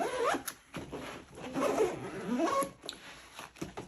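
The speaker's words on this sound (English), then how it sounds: "But let's zip this guy up." A Wandrd Prvke Lite camera bag is zipped shut in several uneven, rasping zipper pulls, close and fairly quiet, with small handling knocks between them.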